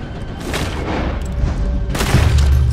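Gunshots in Red Dead Redemption 2 come as a loud burst of booming game gunfire with a heavy low rumble and a sharp crack near the end, and nobody speaks.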